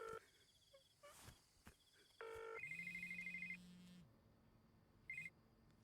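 A telephone on an outgoing call, heard in a Punjabi action film, gives short dial tones and beeps followed by a steady, repeating ring tone; quiet, with a brief extra beep near the end.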